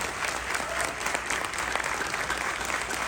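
A big audience at a Mi Lifestyle GTS plan presentation claps loudly and continuously, a thick, even roar of many hands with a faint crowd murmur beneath.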